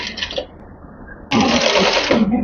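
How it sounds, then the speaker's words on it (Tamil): A domestic sewing machine top stitches a cold shoulder sleeve, running in a short burst, pausing, then whirring again loudly and steadily up close. "இந்த இடத்துல நம்ம டாப் ஸ்டிச் கொடுக்க போகிறோம்"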